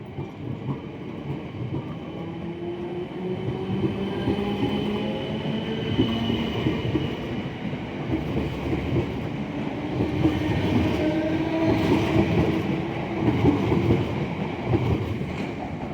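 A train pulls out of a station and rolls along the rails with a steady rumbling drone of wheels, faint squeals and clacks building gradually, heard from on board.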